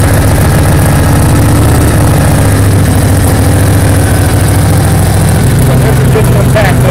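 A fuel-injected engine idles steadily while warming up, a loud, close, constant rumble with an even low throb throughout and no change in pace.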